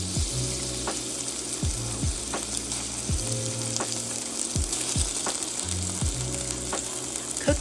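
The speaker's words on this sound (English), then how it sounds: "When the oil is shimmering, add the strips of beef and try to press down into one layer" Strips of beef frying in shimmering oil in a skillet for a beef chow mein stir fry: a steady close sizzle broken by a few rhythmic knocks and scrapes, no voices.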